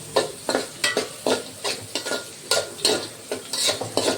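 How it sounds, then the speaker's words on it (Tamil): Cinnamon, cloves and bay leaf sauté in a generous amount of hot oil for a macaroni pasta dish, with a spoon stirring in quick regular strokes over a light sizzle and no one talking. "நல்லா வதக்கணும்."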